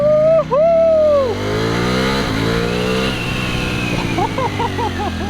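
A 2018 Ducati Panigale V4S sport motorcycle engine revs hard in first gear and climbs in pitch as it accelerates, loud and close, with the whine rising through several steps.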